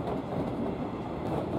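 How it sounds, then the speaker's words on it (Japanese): A JNR-built electric train runs at about 90 km/h on an elevated section of the Osaka Higashi Line, its motor giving a loud, dense, continuous roar and rumble with no talk. "メイドイン国鉄のうるさいモーター音が出てるからだいたい90キロは出てるんじゃない"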